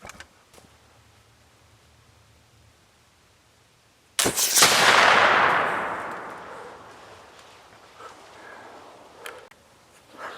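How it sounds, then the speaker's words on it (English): A flintlock muzzleloader fires after a hang fire during a deer hunt in a January nor'easter: one sudden loud blast that rings out and decays slowly over several seconds, followed by quieter scattered sounds, with no talk. "The gun hang fired on me."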